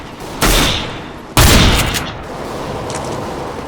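Gunfire in Counter-Strike: Global Offensive, two loud, close shot bursts about a second apart, each ringing out into a lingering noisy tail.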